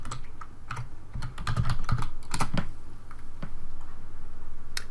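Typing on a computer keyboard at a desk, a close run of quick irregular key clicks with brief bursts and pauses, no talking.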